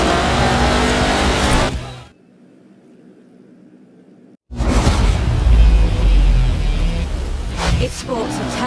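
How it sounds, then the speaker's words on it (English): A car powered by a turbocharged 5-litre Land Rover Jaguar engine in a carbon fibre chassis with an integral roll cage revs loudly nearby, cuts out for a couple of seconds, then roars back with deep, aggressive revving. "It sports a turbocharged 5-litre Land Rover Jaguar engine, crammed into a carbon fibre chassis with integral roll cage."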